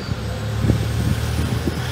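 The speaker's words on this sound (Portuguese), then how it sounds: "O barulho é proveniente lá do conjuntinho rotativo" Engine of a 2006 Toyota Hilux idling with a noisy turbo rotating assembly, a steady low rumble with faint irregular knocks and whirring, heard up close and alone.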